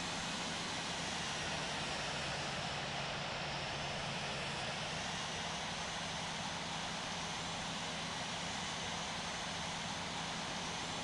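Steady broadband roar of Airbus A380 jet engines in the Infinite Flight game, an Etihad airliner at Heathrow, holding a constant even drone with a low hum throughout and no voices.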